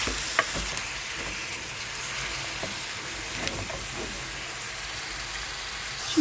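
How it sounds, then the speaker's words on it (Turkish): A mushroom and meat dish sizzling and hissing in a pan while being stirred, with soft scraping clicks over a constant frying hiss, close and fairly quiet, no talking. "Şimdi karıştıracağım bunu."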